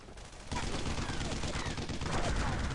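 Machine gun fire in the World War II shooter game Brothers in Arms: Earned in Blood, a dense, continuous loud rattle that starts abruptly and fills the whole stretch as a sustained battle din.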